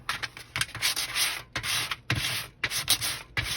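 Rough back-and-forth sanding strokes against a surface, loud and close, in several bursts separated by brief pauses.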